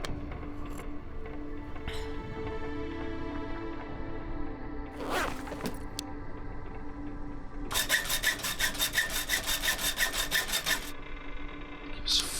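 A hacksaw in the survival game The Long Dark, worn to half condition, rasping through material in steady back-and-forth strokes, with a sharp scraping burst midway and a louder, sustained run of sawing near the end.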